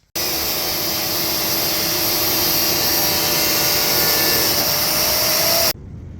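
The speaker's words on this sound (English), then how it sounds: "we're gonna start cutting right here along this line, and then we start trimming it back to fit" A power tool cuts a chopped rear fender on a Harley-Davidson Dyna along a traced line, giving a steady, loud, high-pitched whine that holds for about five and a half seconds before stopping abruptly.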